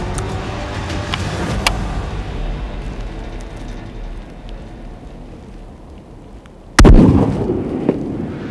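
A single sharp rifle shot cracks out during a hunt in New Zealand, loud and abrupt near the end, rising above a steady outdoor rumble and fading quickly.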